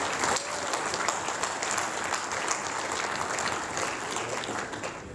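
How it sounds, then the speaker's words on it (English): Sustained applause from an audience honoring past state deputies at a fraternal order gathering, a steady dense patter of many hands clapping at even loudness throughout, with no break or voice over it. "Let's give them a round of applause"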